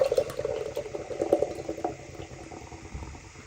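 Beer pours from a can into a pint glass, a close gurgling, frothy stream that fills steadily and then tapers off as the foam settles.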